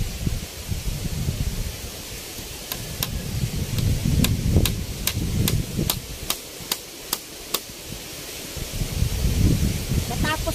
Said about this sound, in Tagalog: dahan-dahan lang pagtukpok ng martilyo